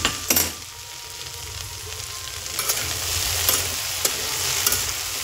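Okra sizzles and fries in oil in a pan on a small gas stove burner, a steady crackling hiss broken by a few sharp stirring scrapes and clinks, close and alone with no voices.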